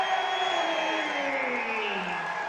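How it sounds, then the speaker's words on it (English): A packed arena crowd roars and cheers at a Ring of Combat MMA fight at the Tropicana, a dense, loud, sustained wall of voices with no breaks. "Listen to this crowd, man."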